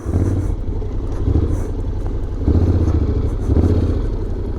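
2023 Honda X-ADV 750 ridden on a dirt road on Bridgestone Battlax Adventure tires, a steady engine drone with low rumble and rattling from the rough surface, its pulses swelling every second or so, recorded close and loud.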